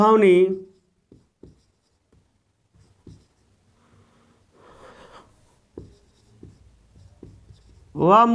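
Chalk or marker scratches briefly across a classroom board during a Hindi grammar lesson, with scattered short strokes and a faint scribbling burst between spoken phrases from the teacher at the start and end.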